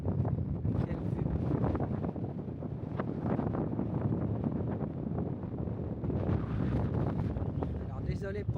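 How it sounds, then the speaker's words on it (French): Heavy wind buffets the microphone throughout on a road to a lake in Connemara, Ireland, a constant low roaring rumble with no pauses, close and loud. "Alors désolé pour le vent, mais"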